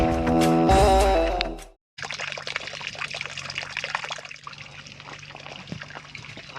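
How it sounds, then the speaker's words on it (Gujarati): Water pours steadily from a village supply line, a continuous close trickling rush that follows a brief burst of louder noise and a short silence. "અહીંયા સારું પાણી આવે છે"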